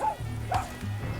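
A dog in Far Cry 6 gives a couple of short, yipping barks in quick succession, close and moderately loud over game background sound.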